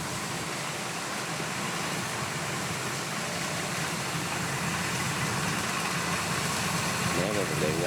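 A DC 93G rice harvester engine runs steadily while cutting rice in a field, a constant mid-pitched drone with vibration holding at an even level throughout, with no talk over it.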